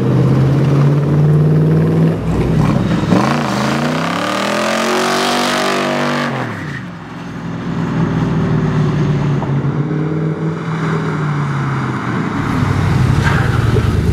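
A 1965 Shelby Cobra replica built by Factory 5 rumbles loudly through a tight turn at low speed, its engine note rising and falling steadily, close and continuous with no voices.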